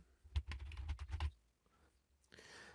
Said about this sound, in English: All the student needs to do now is type in a keyword or a phrase